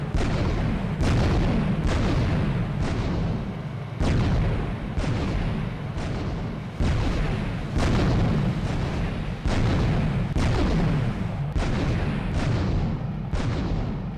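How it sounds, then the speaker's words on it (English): A tank in a glitched video game fires its cannon repeatedly, a dozen or so loud booming blasts at fairly regular intervals, each with a rumbling tail that runs into the next. "just seeing a tank flying while firing off its cannon is the kind of cartoon video game nonsense that we honestly live for"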